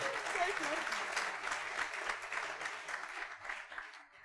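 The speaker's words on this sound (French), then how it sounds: "Let's clap for her." A church congregation claps and cheers together, a steady, dense wash of applause throughout that fades slightly toward the end.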